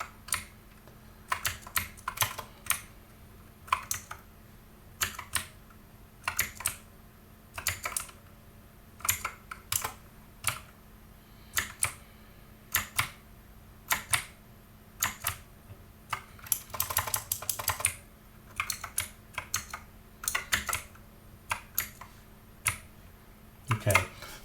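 Fingers tap on a computer keyboard in irregular bursts of crisp clicks, close up, with pauses between runs and a faint voice heard under parts of it.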